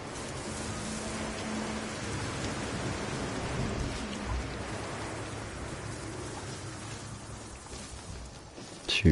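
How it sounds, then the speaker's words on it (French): A long rainstorm in the video game No Man's Sky: steady, dense rain hiss with a low rumbling undertone, continuous throughout and unbroken by speech. "Elle est longue cette tempête, hein."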